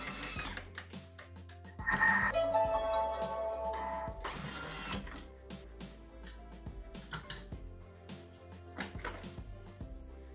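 Thermomix (Bimby) TM6 mixing a hazelnut and chocolate truffle mixture for three minutes at speed 3: a steady low mechanical whir with rattling and scraping from the bowl, moderately loud and continuous, with a brief louder burst early on.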